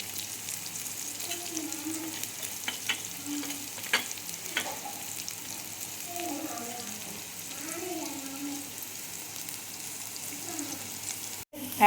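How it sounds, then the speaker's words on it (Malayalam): Noodles with green chilli frying on a low flame in a pan, with an even close sizzle throughout and scattered scraping stirs from a spatula. "ലോ ഫ്ലെയിമിൽ കിടന്ന് അങ്ങനെ ഫ്രൈ ആകുമ്പോൾ നമ്മളൊന്ന് മിക്സ് ചെയ്ത് കൊടുക്കണം."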